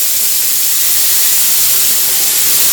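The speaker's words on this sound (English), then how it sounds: "Now we just need to add a tablespoon of water." Water hits a hot pan of jicama home fries and hisses into a loud, steady steam that fills the whole moment without letting up.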